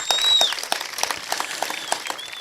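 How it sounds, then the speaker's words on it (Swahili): Clapping from an audience at a boys' national school during a visit by sprinter Ferdinand Omanyala, a brisk spread of overlapping claps with a few sharp nearer ones, steady and fairly loud throughout. "Pigieni ya makofi"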